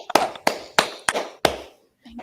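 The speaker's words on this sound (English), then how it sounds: "So, another round of applause here for Tara." A few sharp, evenly spaced claps at a comedy show, about five distinct strikes close to the listener, followed by a short pause and a faint low sound.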